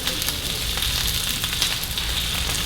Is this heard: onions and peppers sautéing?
yes